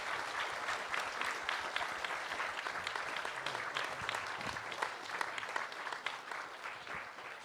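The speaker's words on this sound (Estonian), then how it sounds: "Ma arvan, et üks aplaus oleks väga paslik siinkohal meie poliitikutele." Audience applauding politicians after an election debate, sustained dense clapping from a crowd, fairly distant and even over several seconds with no talk.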